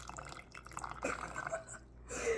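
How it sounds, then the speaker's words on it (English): Moon water poured over crystals, a thin trickling and dripping stream with a few splashy drips, fairly faint and close, with no talking. "you're going to hear me pour some moon water over the crystals now"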